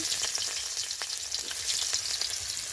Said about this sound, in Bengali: এখন কাঁকড়া দিয়ে মুগ ডাল রান্না শুরু করছি অল্প একটু তেল দেব তিনটে এলাচ পেঁয়াজ কুচি